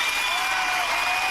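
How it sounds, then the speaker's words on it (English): A live audience claps in a dense, steady burst of applause after a musical theatre performance, a brief continuous wash of hands. "they're clapping for the performance"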